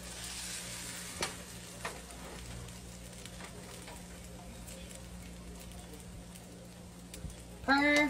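Tomatoes and red pepper paste sizzle in a pan over a slow cook, giving a steady, faint frying hiss with a few clicks and stirring sounds, before a brief louder clatter near the end.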